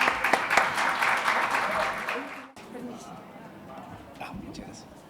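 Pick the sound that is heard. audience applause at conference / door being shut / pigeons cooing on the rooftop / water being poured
audience applause at conference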